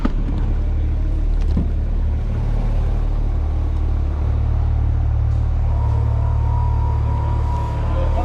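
Another car passes on a race track where a Porsche 911 GT3 RS runs on Michelin Pilot Sport Cup 2 R tyres, a loud continuous engine rumble holding steady and building slightly toward the end, with no talk.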